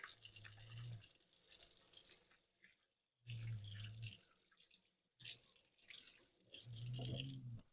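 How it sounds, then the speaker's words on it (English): Hands are washed with soap under a running kitchen tap after handling raw pork, with soft, close bursts of water splashing into the sink that stop and restart, separated by brief quiet gaps. "I'm going to wash my hands real quick with some soap since I touched the raw pork"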